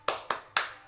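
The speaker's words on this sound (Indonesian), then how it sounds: "Tepuk semangat." Three sharp, evenly spaced hand claps from a group performing a spirit clap in a training session, crisp and close, with a fourth starting at the end.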